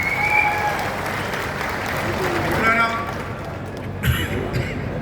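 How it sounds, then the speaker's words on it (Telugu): Applause from a crowd welcoming the speaker at a BJP political rally in Andhra, a steady, dense clatter of clapping mixed with crowd noise and voices. "చప్పట్లతో స్వాగతం పలికారు"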